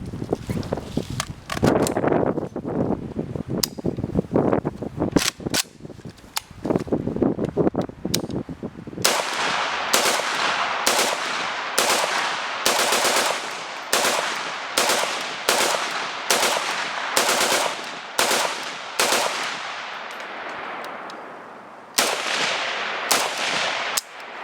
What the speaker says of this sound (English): Sorry for that bad bump fire attempt.